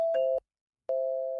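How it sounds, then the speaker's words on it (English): A doorbell gives two clear electronic chime tones separated by a short silence, close and fairly loud, with no talking. "Your boy in the middle of the night go and ring the doorbell over. Ding dong ding."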